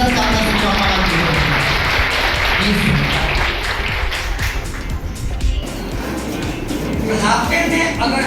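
Applause from a ceremony audience fills the whole stretch as a dense, steady wash of clapping with voices talking over it, easing slightly midway before swelling again.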